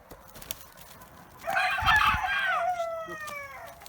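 Small bantam roosters crow outdoors near a chicken coop, one loud, drawn-out crow rising and trailing off in falling tones, with faint clucking before it.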